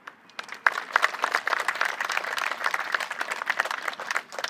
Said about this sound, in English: Please give a round of applause to the Sport Court installer, Mark Kundasak.